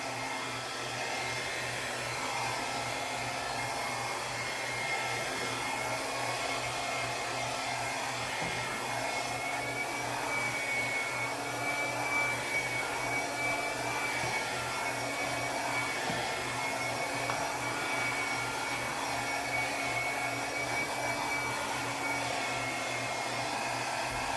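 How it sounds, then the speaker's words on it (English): A blow dryer runs continuously with a loud, steady whir and airy rush, unchanging throughout, with no talking. "Sorry, the blow dryer is really loud."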